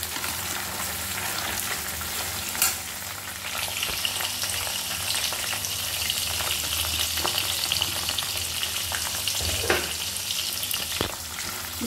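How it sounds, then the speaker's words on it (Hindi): Chicken pieces fry in hot oil for a biryani, giving a steady, close sizzle with occasional pops and stirring clicks throughout, with no one talking. "तेल में इसको हम फ्राई कर लेंगे"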